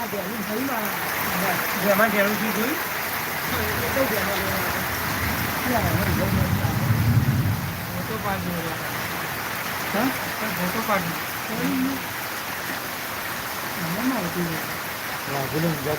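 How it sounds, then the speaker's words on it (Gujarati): Heavy rain pours steadily in Unjha in a dense wash of noise, with people talking over it throughout. "ધોધમાર વરસાદ ઊંઝામાં પણ આવે છે"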